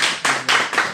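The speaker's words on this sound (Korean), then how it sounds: "박수 한번 드릴까요?" Clapping from a church congregation welcoming a guest during a Sunday service: near, loud bursts of handclaps swell and ease in a quick pulsing rhythm, with no talking over them.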